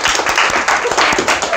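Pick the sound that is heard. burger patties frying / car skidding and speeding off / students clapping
students clapping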